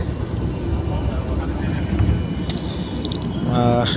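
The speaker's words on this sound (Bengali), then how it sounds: "দেখতেই পাচ্ছেন বিমান ছেড়ে দিয়েছে" Aircraft engine noise fills the cabin of a departing passenger airplane as a steady broadband roar, with brief clicks and a louder tonal whine rising near the end.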